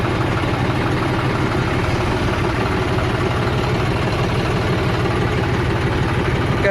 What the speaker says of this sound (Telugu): మన ట్రాక్టర్ అయితే చాలా మెల్లగా పోతుంది